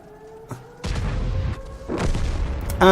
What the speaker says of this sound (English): the T29 will just swivel his turret around and shoot the M44